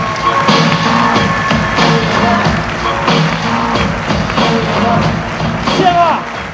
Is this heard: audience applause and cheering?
yes